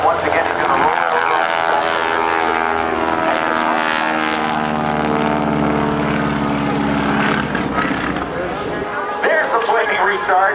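An aerobatic propeller airplane passes along the shoreline at a naval air station airshow, its engine droning loud with a shifting, sweeping pitch as it rolls over, while an announcer talks throughout.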